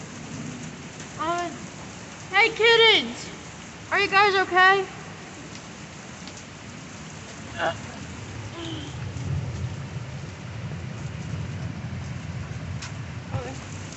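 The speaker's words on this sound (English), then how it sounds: "But that's all hail. That's literally all hail." A hail storm pelts the surroundings with a steady, dense roar that builds toward the end, with a low rumble beneath; a person speaks briefly over it near the start.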